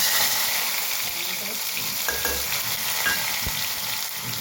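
Mustard seeds and cumin frying in about three spoonfuls of hot oil for a sweet potato dish, giving a steady close sizzle. A few faint clinks and stirring knocks break through the sizzle, and no one speaks.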